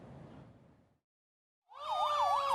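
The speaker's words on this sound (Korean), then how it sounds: "사이렌이 울리자 긴급 출동하는 소방차." A fire truck's wailing siren starts suddenly after a brief silence, loud and close, its rising-and-falling tone cycling steadily over low engine rumble as the engine heads out on an emergency call.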